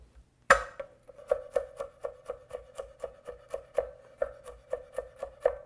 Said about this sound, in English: First thing, I want to start to chop my garlic.